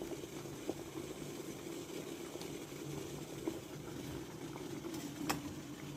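Water boils in a pot with pandan leaf, heating for steaming idli, giving a steady low bubbling rumble with a few faint knocks throughout, no voices.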